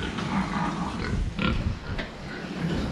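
Pigs on a farm eating powdery feed of uniform grain size, with steady low grunting and chewing noise close by, a couple of brief louder bursts, and no talk.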